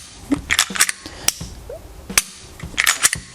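A Glock G45 9mm pistol's trigger is pulled through its take-up until it breaks at about 5.5 pounds and then resets. The result is a quick series of sharp, close metallic clicks and snaps with irregular spacing and no voices.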